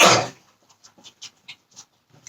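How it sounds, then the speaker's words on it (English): A pet dog close by gives a loud burst of breath, then pants and whimpers in short, soft, evenly spaced puffs over a quiet room, with no one speaking. "sorry, that's my dog."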